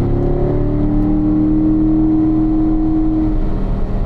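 A car engine drones loudly and close as the driver brakes and downshifts, producing a steady harmonic whine with slight shifts in pitch and no talking.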